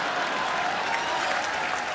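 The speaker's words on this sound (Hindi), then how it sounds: "जोरदार तालियां" Steady, dense clapping from a television studio audience on a comedy talk show, fairly even in level and free of speech for the whole stretch.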